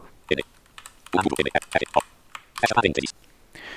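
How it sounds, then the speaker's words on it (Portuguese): Computer keyboard typing during a Python programming lesson on classes and objects, heard as close clusters of quick key clicks in short bursts, with a voice speaking alongside. "Então, eu vou digitar aqui número."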